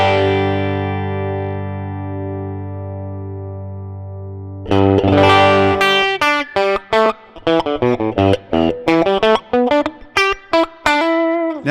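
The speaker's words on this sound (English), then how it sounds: "But what we can really hear now is that clean tone mixed in there." High-gain distorted electric guitar through a Line 6 Helix, with the clean DI signal bleeding into the tone: a long sustained chord rings out, then a fast run of choppy palm-muted riffs, loud and close.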